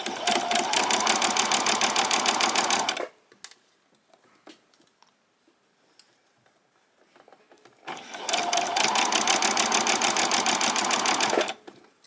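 A sewing machine back stitches and then sews straight along the side seam of a pajama top, running in two loud, steady bursts of about three seconds each, with a quiet pause between them.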